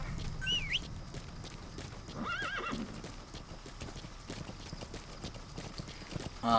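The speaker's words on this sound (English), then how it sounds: "So we're gonna go ahead and call our horse pretty soon." Horse in Metal Gear Solid V, heard up close with clear hoof clip-clops trotting under the game's ambience. A loud whinny rises near the start and another follows in the middle.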